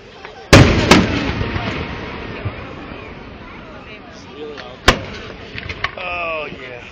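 Fourth of July fireworks in West Allis, Wisconsin, with two loud booming bursts near the start and another sharp bang later, crackling and whistling after, under crowd chatter and people talking.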